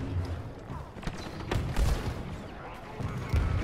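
Grenade blasts and gunfire in Star Wars Battlefront 2 thump repeatedly in a dense, continuous barrage of booms and shots, with no talking.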